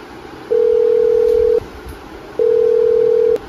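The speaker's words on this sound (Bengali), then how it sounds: "পিয়ুষকে একটা ফোন করি" A telephone ringback tone sounds while a phone call is being placed: two long, steady electronic tones separated by a short gap, loud and close over faint background hiss.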